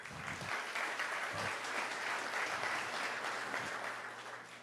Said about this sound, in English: One more round of applause for the first half of speakers.